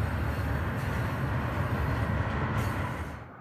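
A freight train rumbles steadily past close by, a dense low roar with faint rattling, fading slightly at the very end.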